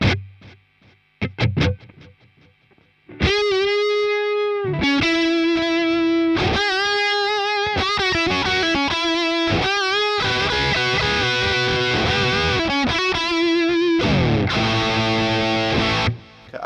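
An electric guitar runs through a Boss Katana Mk II amp on the Echo Crunch preset, giving heavily distorted, sustained notes and chords with delay trails. A few quiet plucks come first, then loud ringing phrases that cut off at the end.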